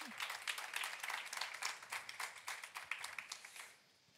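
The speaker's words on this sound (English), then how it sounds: "Let's give them a round of applause." An audience claps in applause at a talk on new EU fashion legislation, a dense patter of many hands that stays fairly faint and even before tapering off at the end.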